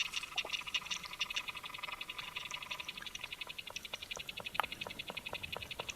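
A plant recorded underwater gives off a fast, steady train of sharp clicks and ticks with faint tonal streaks, quiet and continuous with no voices.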